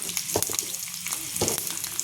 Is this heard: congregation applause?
no